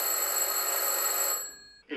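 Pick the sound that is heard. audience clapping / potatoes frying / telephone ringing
telephone ringing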